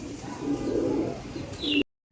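Silver-blood Giribaz pigeons coo steadily at close range, a low rolling murmur with a faint higher chirp near the end before the sound cuts off abruptly.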